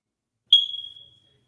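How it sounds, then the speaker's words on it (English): A single sharp, high-pitched beep from a fire alarm sounds once, close and loud, then rings out quickly into silence. "The fire alarm beeped."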